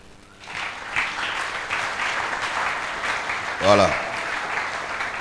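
A church congregation applauding and cheering during a sermon, a continuous wash of clapping that swells in the middle, with a voice speaking briefly over it.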